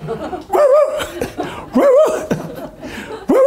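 A person imitates a dog barking with voiced, yelping bursts in three short rhythmic groups, close and fairly loud, with a little laughter around them during a Buddhist temple talk.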